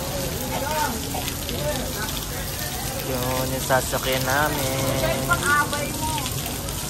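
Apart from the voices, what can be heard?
rain falling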